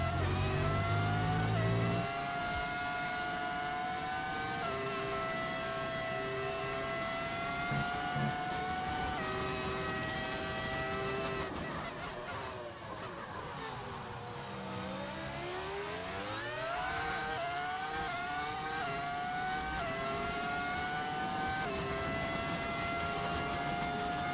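An F1 race car engine in the video game F1 25 screams through sustained high revs, with rising and falling gear-shift sweeps, a brief lift and dip in pitch partway through, then climbs again, loud and alone.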